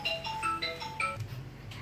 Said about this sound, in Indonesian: Ada telepon cong.